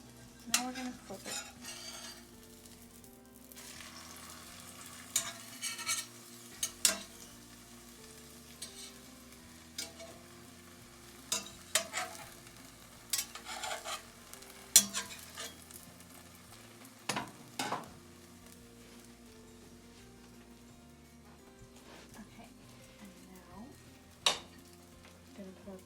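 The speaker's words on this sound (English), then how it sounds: "we put some more butter just to make it more creamy" A blini pancake frying in butter in a hot pan, a steady low sizzle punctuated by sharp clinks and scrapes of a utensil against the pan, no talk.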